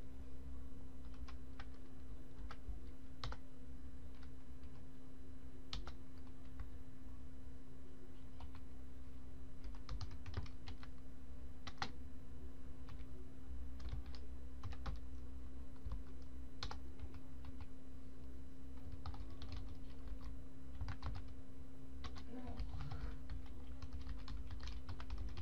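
Quick bursts of clicking keystrokes on a computer keyboard, irregular and fairly close, come over a constant low electrical hum as server settings are typed in a terminal; nobody speaks.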